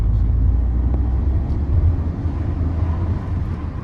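A Peugeot 208 1.2-litre 82 hp petrol engine hums steadily from inside the car, a low continuous drone with road rumble that swells slightly as it picks up speed.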